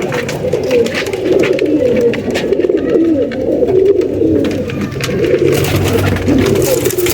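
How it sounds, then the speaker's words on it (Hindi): Pigeons coo continuously in soft, throaty warbling rolls, close by, layered over one another with a constant low hum in the background. "बहुत वीआईपी कबूतर है माशाल्लाह"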